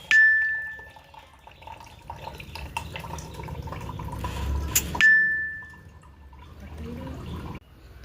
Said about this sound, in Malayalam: കരിക്ക് ഗ്ലാസ്സിലേക്ക് ഒഴിക്കുക